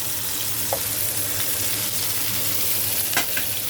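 Salmon fries in a pan with garlic, a steady close sizzle with a dense crackle that holds level throughout, broken only by a couple of faint taps.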